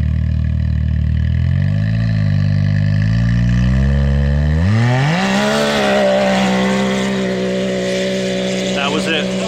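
Can-Am Maverick X3 side-by-side with an Evo Super Stage 6 tune, running hard on E85: the engine revs climb steadily, then hold loud and near at a high pitch, with voices talking over it.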